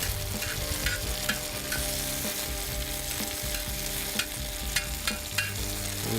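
Onions and peppers in olive oil sizzle loudly on a grill, a dense continuous frying hiss with periodic scraping and stirring ticks, close and without talk.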